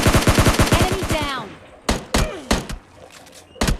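Video-game gunfire from an Uzi and an M16A4: a rapid, loud automatic burst lasting about a second and a half, then several separate sharp single shots spaced apart.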